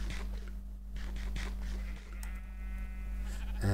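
Sheep in the Minecraft video game bleat in short wavering calls over a steady background music drone, with no talk.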